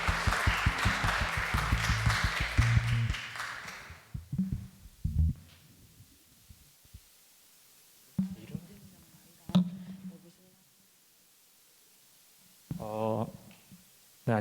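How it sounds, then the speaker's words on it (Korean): Congregation applause welcoming a newcomer at a Korean church service, a loud burst of clapping for several seconds that fades out, followed by quiet and intermittent talk. "많은 분들 박수로 축하 바랍니다"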